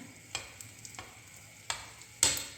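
Hot oil spooned over semolina sfenj dough frying in a pan, heard as a soft steady sizzle broken by a few sharp splashy bursts near the end, close and fairly quiet.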